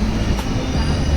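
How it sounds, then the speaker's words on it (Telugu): A train pulling out of Renigunta railway station, loud and close, with a steady rumbling roll of wheels on rails and a broad continuous metallic noise throughout. "రేణిగుంట రైల్వే స్టేషన్ నుంచి ట్రైన్ బయలుదేరేసింది"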